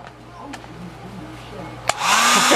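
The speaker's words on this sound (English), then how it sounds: "Hair dryer cam." A hair dryer switches on near the end with a loud, steady whooshing roar after a few quiet clicks and faint movement.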